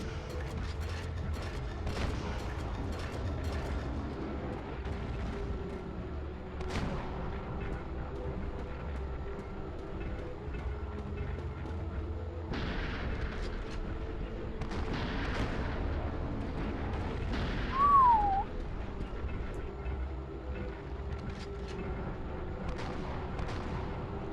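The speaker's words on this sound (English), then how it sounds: "Doesn't seem like my shots are doing anything." Rifle shots in the survival horror game Silent Hill: Origins. A few sharp reports land apart from each other over a low, droning, mechanical ambient bed, with occasional creaks and clanks.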